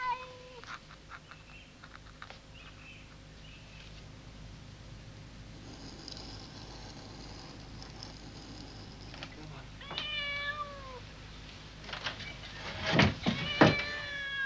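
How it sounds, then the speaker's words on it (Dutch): A cat shut in a puzzle box meows repeatedly near the end, loud and close, after a long stretch of low background noise with faint rustling. "Een geroutineerde kat weet al gauw weer hoe hij moet ontsnappen en bij een lekker hapje komen."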